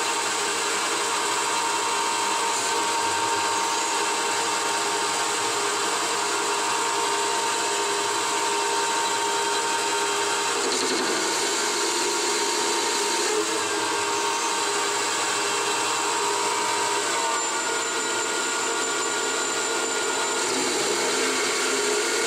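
A CNC lathe turns at 700 RPM, giving a loud, constant mechanical whir and hum with a steady high tone and a few brief changes in texture, running alone without talk.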